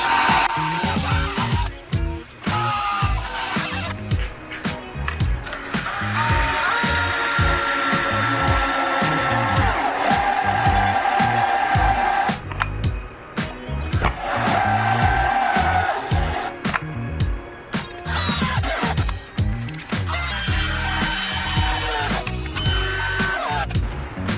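A power drill bores bolt holes while building a net camera mount, a steady loud whirring motor that runs in long stretches with short pauses between holes.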